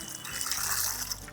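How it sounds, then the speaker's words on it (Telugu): Water pouring from a farm motor pump by a field, a steady close gush and splash that runs unbroken through the short moment. "ప్రత్యేకంగా వాటర్ పడుతుందండి ఇక్కడ,"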